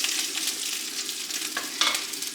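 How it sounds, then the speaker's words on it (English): Bacon, lard and sausage fry in a pan, a soft, continuous crackling sizzle heard close with a couple of brief louder spits. "just a bit of bacon, lard and some sausage."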